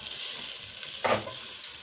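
Peas and grated carrot frying in a pan, a soft steady sizzle with one brief scraping stir near the middle, quiet and close.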